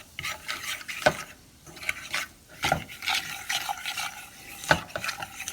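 Flour cooks in oil in a pan as a base for gravy, giving a soft steady sizzle under repeated scraping strokes of a utensil against the pan, close by.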